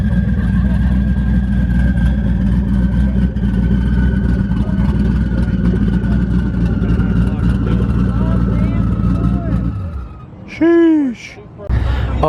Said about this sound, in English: whatever's done to this Camaro sounds pretty freaking nuts